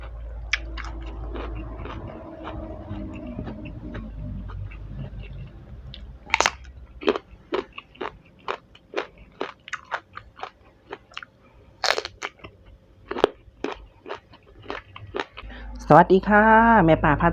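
Fish laab eaten with hot sticky rice, crisp eggplant and blanched mustard greens: a long run of sharp, close crunching and chewing bites at an irregular pace, with someone talking at the start and again near the end.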